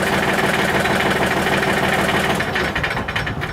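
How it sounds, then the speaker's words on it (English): A tractor engine runs steadily at idle with a dense, even mechanical rumble, then begins to falter and thin out toward the end as it is switched off. "Now, if I turn the tractor off, let's see what happens."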